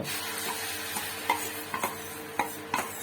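A bread omelette's egg mixture sizzles in oil on a flat dosa griddle, a steady close frying hiss broken by four or five sharp taps and scrapes of a spatula spreading it, with no voices.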